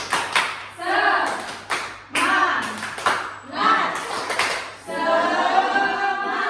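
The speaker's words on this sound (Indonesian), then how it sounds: "Melakukan tepuk semangat. Tepuk semangat." A class of children claps together in quick rhythmic bursts, pausing between sets, with children's voices chanting along.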